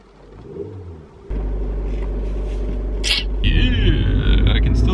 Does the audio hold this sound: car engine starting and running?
yes